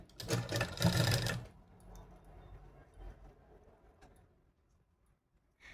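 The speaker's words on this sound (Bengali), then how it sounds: "প্রেস করে মেশিনে চালিয়ে নেব" Sewing machine stitching a small doll dress runs in a loud close burst for about a second and a half, then fades to faint handling noise and near silence.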